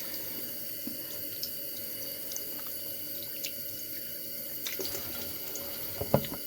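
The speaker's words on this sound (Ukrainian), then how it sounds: "Одразу ми миємо руки, щоб воно ще більше не розмазалось." A faucet runs steadily into a sink while hands are washed after makeup work, a continuous close hiss of water with faint splashes and a louder splash near the end, no talking.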